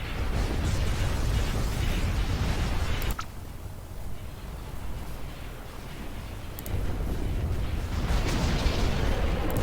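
Space battle in the strategy game Empire at War, with weapons fire and explosions as a loud, dense, continuous barrage of booms and blasts that drops off briefly midway, then builds back up again.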